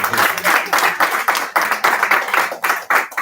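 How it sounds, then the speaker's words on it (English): A room of students at an orientation program claps in a brief round of applause, steady and close, lasting a few seconds before fading. "Round of applause"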